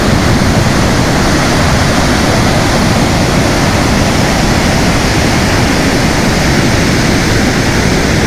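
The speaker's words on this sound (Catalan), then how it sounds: "les cascades de Dettifoss" Dettifoss waterfall in Iceland roars as a loud, unbroken wall of falling water, dense and steady throughout with no voices.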